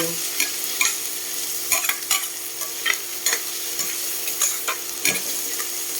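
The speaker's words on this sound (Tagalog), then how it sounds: "Maingay pala pag ito yung gamit nating sandok." A metal ladle scrapes and clatters repeatedly against a frying pan of hotdogs and onions over a steady frying sizzle, with irregular sharp scraping strokes throughout.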